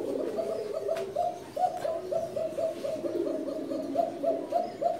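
Pigeons coo steadily at a busy Dhaka pigeon market, with a close, continuous run of soft rolling coos repeating in quick overlapping pulses.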